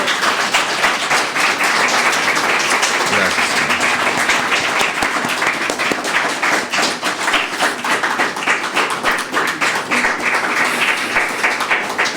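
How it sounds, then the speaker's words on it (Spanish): Church congregation applauding together after a sermon, a dense, sustained wash of clapping that fills the room, with a brief spoken word near the end. "Se merece un aplauso nuestro guardador"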